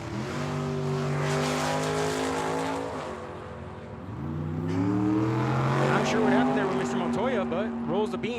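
A Pontiac drag race car launches at Tucson Dragway during a Cactus Clash event, its engine revving in rising and falling surges, loud and near, with tire squeal and an announcer talking over it.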